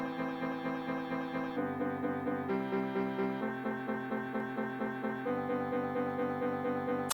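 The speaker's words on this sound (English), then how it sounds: "Then I took each one of those chords, put them in their respective places along this progression, and then I just copied and pasted and looped it." Chopped and looped recordings of real piano chords moving through a chord progression, each chord repeating in quick even pulses with a faint echoing tail, steady and alone.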